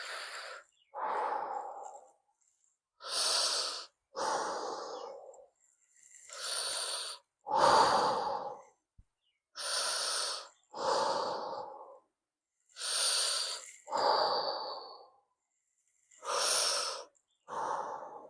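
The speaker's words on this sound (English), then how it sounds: "So relax your shoulders, that spinal pelvic lock, and let's breathe in." Deep, slow breaths during a guided exercise session, about a dozen long inhales and exhales in steady alternation, close and clear against near silence.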